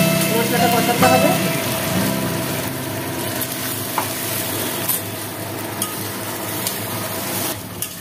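Masala with chopped tomato sizzles in a pan while a spoon stirs it, scraping clinks over a constant close frying hiss, with a voice talking at the start.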